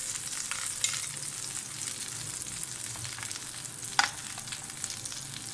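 Chicken gola kababs frying in a pan, a steady close sizzle and crackle with occasional sharper pops and a few light scrapes.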